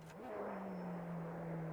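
Race car engine in the Automobilista 2 racing game drones at steady revs, a continuous buzzing tone with a brief pitch dip near the start, then holding a sustained, moderately loud hum throughout.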